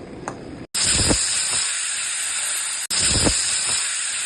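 A pressure cooker vents loud, steady hissing steam while cooking chicken with tomato, onion, garlic, ginger, spices, bay leaf and butter, with a short gap and low thumps between bursts.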